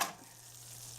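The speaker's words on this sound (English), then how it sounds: "you're just going to let this fry for just a little bit" A flour and fat roux for biscuits and gravy frying in a pan makes a soft, steady sizzle, opening with a brief stir or scrape, heard alone and fairly faint.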